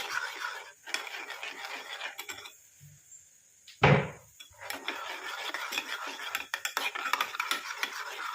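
Mango juice being stirred in a bowl, a spoon scraping and clinking against the bowl's sides in quick irregular strokes, close up, with a short pause and one louder knock midway.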